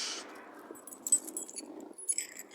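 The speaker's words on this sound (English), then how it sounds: "Just need to grab my keys out of my pocket before it falls out." Keys jingle softly as they are pulled from a pocket, a few light metallic clinks and rattles, close and quiet, with no talking.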